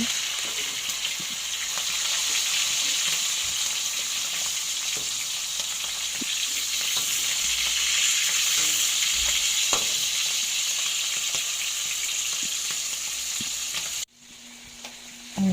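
Tulingan fish pieces, head included, fry in a pan with a loud, constant hissing sizzle close by and occasional small knocks, then cut off abruptly near the end; no voices.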